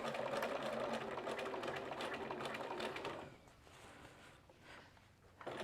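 A sewing machine set to stitch length 3 runs steadily through fabric, a dense even whir for about three seconds, then slows and quiets with softer intermittent stitching near the end.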